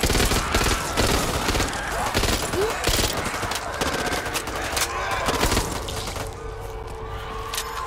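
Bursts of rapid gunfire and cracking shots fill a Back 4 Blood zombie shooter fight, dense volleys throughout with a voice calling out briefly amid the shooting.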